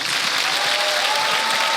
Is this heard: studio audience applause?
yes